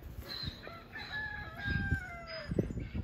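Chickens nearby cluck and cackle while a rooster lets out a long, drawn-out crow, lively and fairly close, with no talking.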